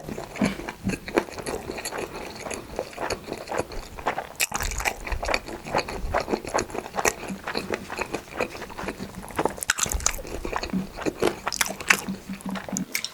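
Fried chicken feet dipped in tteokbokki broth are chewed close to the mouth, with continuous wet crunching, biting and squishing throughout, loud and intimate, with no talk.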